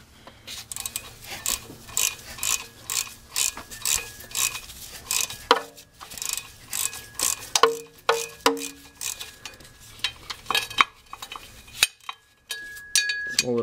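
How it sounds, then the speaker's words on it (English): Ratchet clicking while loosening and removing bolts on a Mazda 626 transmission, with a string of rapid metallic clicks and taps in bursts, close and fairly clear, no talking. "use a ratchet completely to remove those bolts"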